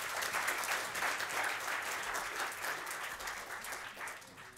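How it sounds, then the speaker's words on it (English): Conference audience at a web developer event applauding a speaker, a full sustained roar of many hands clapping that stays steady and fairly loud before tapering slightly. "Let's give Mustafa another round of applause"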